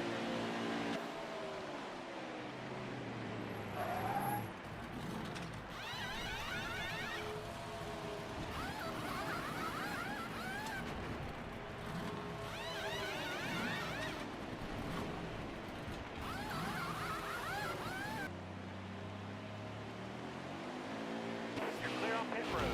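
Engines of race trucks hum and whine on pit road at Gateway in a racing video game, a continuous layered motor drone under steady talk throughout.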